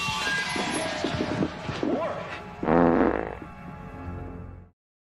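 A loud comedic fart sound effect blares up close, a sputtering burst following a stretch of rough noisy sounds, then quickly cuts off into silence.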